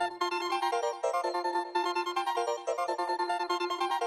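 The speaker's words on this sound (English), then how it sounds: "this very cartoony, I don't know, carnival-y keyboard sound" A bright, bouncy keyboard melody with a cartoonish, carnival-like tone, playing steadily in repeated rhythmic notes.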